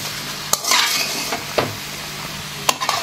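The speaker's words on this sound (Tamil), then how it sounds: "மீடியம் ஃப்ளேமில் வச்சுட்டு நல்லா கிளறி கொடுத்துடலாம்" Spices such as cumin, chili powder and garam masala are stirred in a pan over a medium flame for Mexican rice, giving a few sharp utensil scrapes over a soft, steady sizzle, close and alone.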